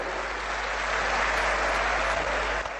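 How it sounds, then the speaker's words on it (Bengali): An audience at a political rally claps loudly and steadily, a dense wash of applause from a large crowd that holds for the whole stretch without any speaking. "একবার জোরে হাততালি দিয়ে আপনারা সবাই বরণ করে নেবেন"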